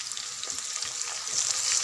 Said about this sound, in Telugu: అల్లం వెల్లిపాయ పేస్ట్ పచ్చి వాసన పోయేదాకా ఫ్రై కాదు